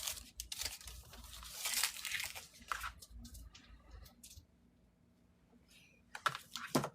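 Scissors scoring the edge of cotton fabric for a sew-along quilting project, giving a run of crisp snipping and crinkling sounds that fade partway through, then a few sharper cuts near the end. No one speaks.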